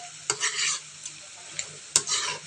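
Adobo sizzles in a pan close up while a utensil scrapes and stirs it in a few sharp strokes, each followed by bursts of frying hiss, with no voices.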